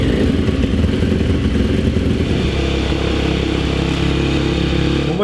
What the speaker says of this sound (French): faire chauffer la moto